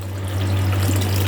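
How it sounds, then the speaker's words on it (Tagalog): Water gushes steadily from a tap or pump to soak dry ingredients for a Chinese soup, a loud, continuous rushing pour with a low steady hum underneath and no speech. "Lalagyan natin ng tubig."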